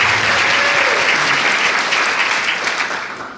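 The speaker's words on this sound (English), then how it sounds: "Yes, we should applaud that." An audience at a campaign speech by a candidate for governor bursts into loud, sustained applause, dense clapping from a large crowd that fades slightly toward the end.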